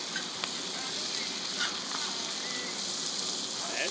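Southern-style cabbage sizzles steadily as it fries in a pot, a constant close crackle with a few faint scrapes of stirring.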